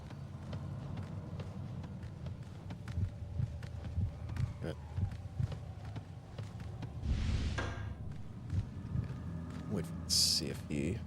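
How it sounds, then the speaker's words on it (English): A slow, steady heartbeat throbs low in the PS2 horror game Kuon, thudding in a regular rhythm under ambient game sounds and speech. "when you hear the heartbeat, that's when they seem to know where you're at"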